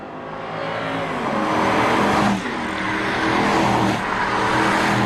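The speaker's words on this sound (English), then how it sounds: "after the German BMW, the Jaguar from Great Britain" A British Jaguar car drives past up close, its loud engine roaring steadily with a rising, revving pitch and a brief dip midway, with no voices over it.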